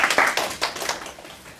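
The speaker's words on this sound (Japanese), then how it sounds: "感謝の拍手で本講義を終わりたいと思います" A lecture audience at Kyoto University's engineering school claps in thanks to a guest lecturer, a burst of scattered hand claps that is loud at first and then thins out and fades within a couple of seconds.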